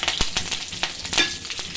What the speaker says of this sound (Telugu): ఆవాలు జీలకర్ర అనేవి వేసానండి. ఇవి వేగుతున్నాయి.